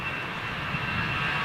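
A Boeing 747 jet at Heathrow Airport sends out a steady, broad engine roar that holds even and loud for a moment, with no voices over it.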